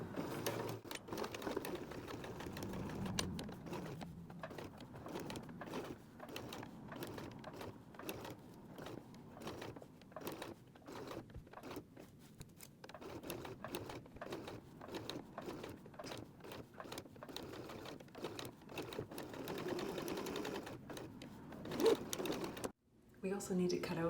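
Sewing machine top-stitching with contrast thread, a steady mechanical whir that keeps breaking into short bursts and pauses, up close, with a voice talking over parts of it.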